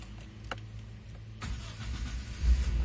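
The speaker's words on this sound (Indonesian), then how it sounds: "Kita startup ya, kondisi pintu terbuka." Daihatsu Taruna FGX 2003 LWB facelift SUV starting with its door open: a sharp crank catch, then a steady low engine rumble that swells louder toward the end, close up with no talk.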